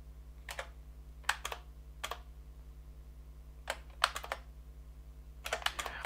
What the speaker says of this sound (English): I am typing Shift G to go to the beginning of the file